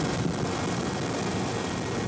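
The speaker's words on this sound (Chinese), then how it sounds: "飞直升机空拍乌来山区，" A helicopter flies over a mountainous area during aerial filming, giving off a steady, fairly faint rotor and engine drone with no voices.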